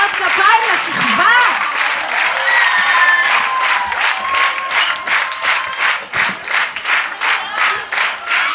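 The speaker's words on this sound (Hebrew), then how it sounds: "מחיאות כפיים לשכבה." Applause for a sixth-grade class on stage at a school graduation party. Loud mixed clapping and shouting give way to steady, rhythmic unison claps, with voices calling over it.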